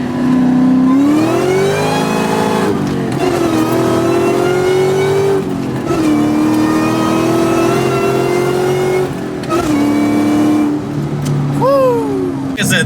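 A 2004 Ford Mustang Terminator Cobra with about 500 horsepower revs hard in first gear with wheelspin, a loud close engine note climbing and holding in a steady roar, with brief dips as the revs shift.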